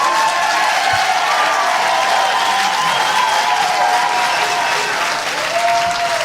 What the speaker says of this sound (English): the folks that were just cheering behind me